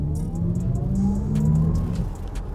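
Audi e-tron GT electric car accelerating hard in Dynamic mode, a steady low motor hum with a faint rising whine and road rumble, heard from inside the cabin with no talk.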